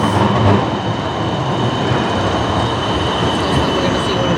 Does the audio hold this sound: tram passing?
yes